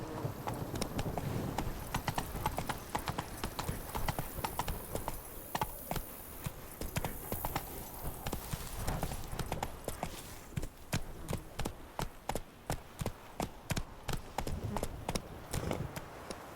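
Hooves of a galloping horse in The Witcher 3: Wild Hunt beat in a fast, steady clip-clop rhythm for the whole stretch, loud and continuous over the game's ambient backdrop.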